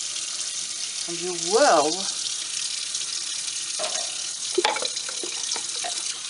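Tap water runs into a kitchen sink while a dish-soap-cleaned container is rinsed, a steady close splashing hiss with brief clatters of the container, while someone talks over it.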